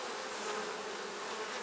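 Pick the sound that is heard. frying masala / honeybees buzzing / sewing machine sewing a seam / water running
honeybees buzzing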